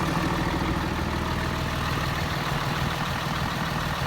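A 2017 Cummins diesel truck engine idles with a steady, low, even rumble that stays at constant loudness throughout, close by and fairly subdued, with no voices.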